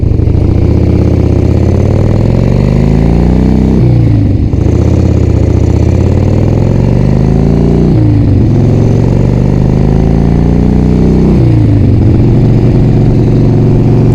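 A Harley-Davidson Ironhead Sportster motorcycle engine, rebuilt and oil-tight, runs loud and close, rising through repeated rev cycles that drop back roughly every four seconds, with no talk over it.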